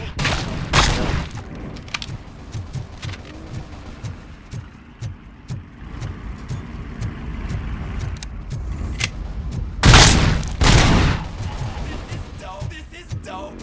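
Gunfire during a shootout in the game Robocop Rogue City, with two loud heavy bursts standing out above a busy rumbling background of scattered shots and impacts.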